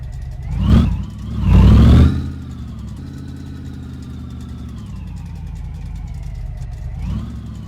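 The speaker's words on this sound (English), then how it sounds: "This truck is loud. But that's because I don't have an exhaust on it." A GMC truck engine with no exhaust fitted revs hard twice, loud and close, then settles into a rough, throaty idle with a brief rise near the end.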